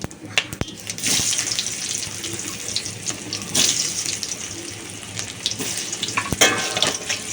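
Dry red chillies, garam masala, whole cumin and fried potatoes sizzle in a pan for chhanar kofta, a steady hiss broken by a few sharp spoon clicks as they are stirred, with no talking.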